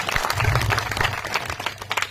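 An audience claps together at a comic Marathi kirtan by Pankajpal Maharaj, a dense, steady burst of applause that lasts a couple of seconds with a low hum underneath.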